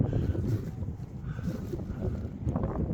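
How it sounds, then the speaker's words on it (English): Wind buffeting a microphone outdoors in a field during metal detecting, a continuous low rumbling roar that swells and dips unevenly, close and fairly loud. "sorry about the wind"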